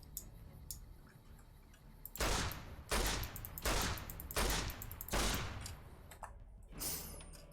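Gunfire in Fallout: New Vegas, five loud evenly spaced shots roughly every three-quarters of a second, each with a short decaying tail, over faint background game ambience.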